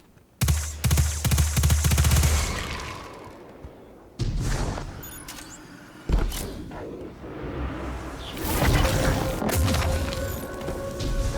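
Rapid automatic gunfire aimed at attacking moths in the video game Destiny 2: The Witch Queen, loud sustained bursts broken by brief pauses, mixed with booms and crashing impacts.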